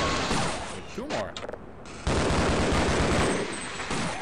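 Gunfire in the Half-Life video game, point-blank shots fired at assassins, a dense burst of rapid cracks near the start, then a brief lull and a heavy, sustained roar of shooting and echoes.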